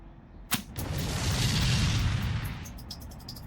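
A slingshot fires a ball with one sharp snap, followed by a sustained whooshing rush and faint rattling taps as it trails off, close and alone without speech.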